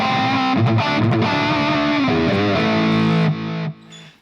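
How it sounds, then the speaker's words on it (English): Heavily distorted electric guitar played through channel B of a Hughes & Kettner AmpMan, a gainy, aggressive tone with chugging palm-muted notes and sustained chords, loud and alone before fading out at the end. "Channel B is slightly more gainish and more aggressive"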